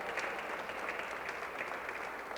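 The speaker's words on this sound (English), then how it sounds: "So let's give Sabrina and the entire committee a big round of applause." Steady, moderate applause from an audience at a Black History awards ceremony, a continuous even patter of many hands clapping with no voices over it.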